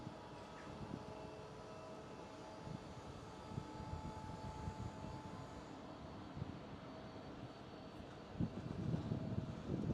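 A KLM airliner passes at Schiphol, Amsterdam: a continuous engine rumble over wind noise that swells and grows louder toward the end.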